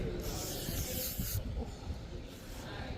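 Insect repellent sprays in a steady aerosol hiss lasting over a second, then trailing off, with a second shorter burst near the end, close to the mic outdoors in Grenada.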